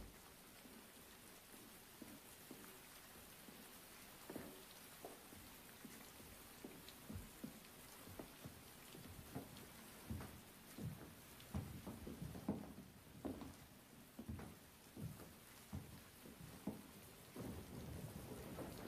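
Film sound effect of rain and thunder from The Great Gatsby: steady rain patter under repeated low thunder rumbles and cracks, growing busier toward the middle, with no voices.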